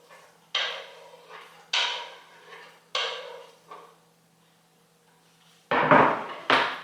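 Vegan spaghetti sauce being stirred in a pot with a utensil, a few separate scraping and clinking strokes against the metal spaced about a second apart, close and fairly quiet, ending in a couple of louder knocks.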